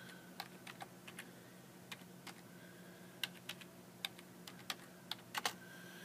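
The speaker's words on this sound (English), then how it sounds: "so now I've typed in the word" Fingers tap out a single word on a computer keyboard, a sparse run of light, quiet keystrokes at an uneven pace, with no voices.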